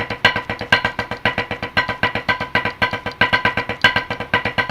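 Drum sticking pattern mixing four-stroke rolls and double stroke rolls, a steady stream of sharp, close strokes in repeating accented groupings, played alone.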